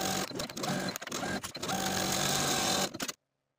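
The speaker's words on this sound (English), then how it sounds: "Sew from the top of the pocket all the way around the curve of the pocket to the seam line of the skirt." A sewing machine runs in close, rapid bursts while stitching a dress pocket seam around its curve, with short stops between runs before cutting off abruptly.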